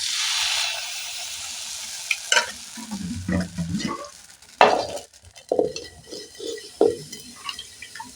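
Ashke pitha batter cooks in a pan, giving soft irregular sizzles, scrapes and light clinks of a utensil after a brief hiss at the start, close and moderately loud.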